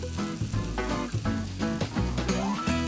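A pita toasts dry in a non-stick pan over low heat with no fat, giving a steady soft sizzle and crackle, close and continuous with no talking.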